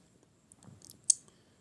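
A single sharp computer mouse click on a confirm button, close and quiet, preceded by a few faint small ticks.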